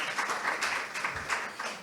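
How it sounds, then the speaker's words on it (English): Steady applause from a conference forum audience, a continuous patter of many hands clapping at moderate distance. "You can applaud, you can applaud."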